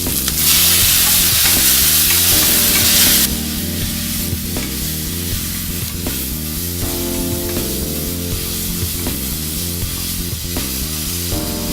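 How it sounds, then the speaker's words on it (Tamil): Onion and tomato sauté in hot oil in a pan for a spinach masala. A loud burst of hissing sizzle opens the sound and then settles into a steady, close frying crackle with no talking. "வெங்காயம் லேசாக வதங்கினோடனே தக்காளி போட்டுருங்க."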